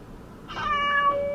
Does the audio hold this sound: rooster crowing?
no